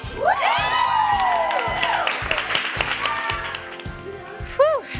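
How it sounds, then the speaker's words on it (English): An audience at a poetry event applauds and cheers loudly, with whoops and rising shouts over rhythmic clapping and a brief shout near the end. "Ladies and gentlemen, please give a huge round of applause."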